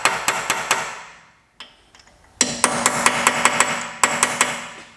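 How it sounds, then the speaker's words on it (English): Sharp metallic hammer blows strike a nail punch set against a rusted wheel stud on a Honda Civic, landing in quick bursts of three to five close, loud hits with a short pause between groups. "You can use a nail punch."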